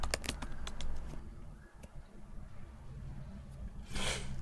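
Commands typed on a computer keyboard, a quick burst of close, crisp key clicks at first, then scattered taps and a short louder clatter near the end, faint and fairly quiet.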